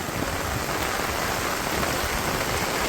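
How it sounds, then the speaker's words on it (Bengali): Heavy rain pours down in a village, a dense, loud, unbroken hiss of water striking ground and surfaces, with no voices. "আরো জোরে বৃষ্টি আসছিল, তাও তো একটু কমছে"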